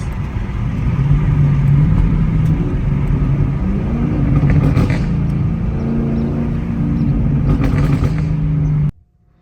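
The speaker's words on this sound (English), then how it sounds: "Let me give y'all some more downshifts." A Chevrolet Camaro engine with an aftermarket exhaust revs loudly through several downshifts, pitch jumping and falling in bursts, then cutting off abruptly at the end.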